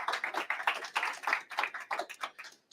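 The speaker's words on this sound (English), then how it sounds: "So I'll give these guys a round of applause" A small meeting room gives a short round of applause, a modest group clapping in uneven bursts that fade out near the end, fairly quiet and close.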